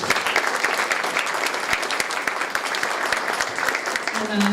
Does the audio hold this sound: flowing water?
no